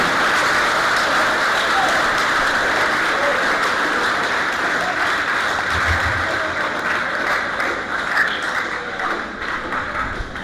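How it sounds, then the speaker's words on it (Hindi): An audience rises for a standing ovation honoring Quaid-e-Azam Muhammad Ali Jinnah at a Pakistani gathering, filling the hall with dense, sustained applause that rolls on steadily and slowly thins toward the end. "खड़े होकर भरपूर तालियों में कायद-ए-आज़म मोहम्मद अली जिन्ना साहब को खराज तहसीन पेश करें।"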